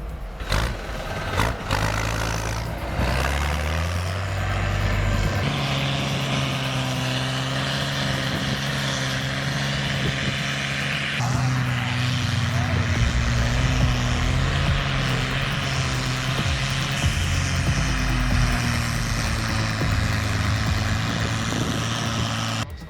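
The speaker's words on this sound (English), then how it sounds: "The Forsby tractor is tearing up the ground itself, sending dirt flying everywhere. Just listen to the sound of its engine." A large Forsby tractor engine roars steadily while tearing up the ground, a loud, sustained heavy-machinery drone with shifting pitch and no talking.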